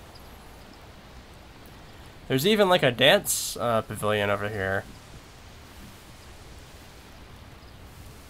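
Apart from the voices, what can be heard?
rain in the video game Second Life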